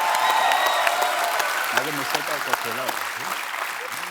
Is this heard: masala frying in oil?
no